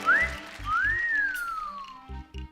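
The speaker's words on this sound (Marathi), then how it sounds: "अशी शिट्टी वाजवली तर प्रॉब्लेम होईल" A person whistles a short rising note and then a long swooping one that slides up and falls away, clear and fairly close, with soft low thumps underneath.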